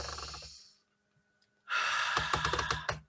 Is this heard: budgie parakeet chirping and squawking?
no